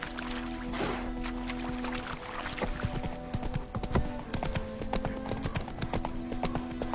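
Roach, the horse in The Witcher 3, gallops along in a rapid, steady clip-clop of hooves, close and prominent over a low ambient game background.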